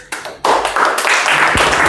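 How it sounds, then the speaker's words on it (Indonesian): Seminar audience clapping in a short burst of scattered hand claps that swells after a pause, with a voice briefly audible over it. "Nggak usah tepuk tangan, biasa aja."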